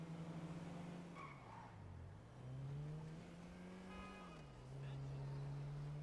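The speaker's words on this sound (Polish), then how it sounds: "nawet Ładnie ten silnik brzmi. Tak na sportowo." A sporty car engine in the video game GTA V, rising and falling through gear changes with brief tire squeals, loud and continuous.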